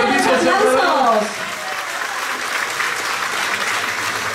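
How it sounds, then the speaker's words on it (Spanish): Crowd applause at a maize festival in San José Las Flores, Chalatenango, honoring event sponsors; a voice speaks briefly at the start, then steady applause continues under the dense crowd noise. "les vamos a dar un fuerte aplauso"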